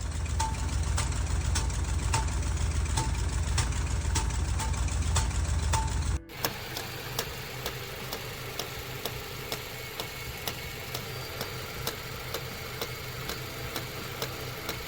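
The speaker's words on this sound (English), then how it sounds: "only for the engine to make this noise. My bet is a broken lifter spring or rocker" A truck engine idles with a fast, regular ticking from the valvetrain that may come from a broken lifter spring or rocker, steady and close, with a brief dip partway through and no voices.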